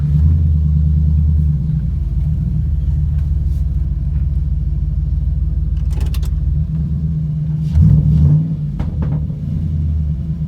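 A van engine rumbles steadily up close as it creeps forward at low speed, with a brief throttle swell near the end and no talking.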